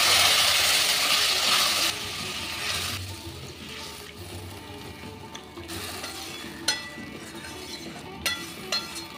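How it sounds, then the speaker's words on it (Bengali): Water poured into frying spice paste in a pan, giving a loud rushing splash and sizzle at the start that settles into a steady bubbling simmer with a few faint clinks, no voices. "এবার দিয়ে দেব পরিমাণ মতো জল।"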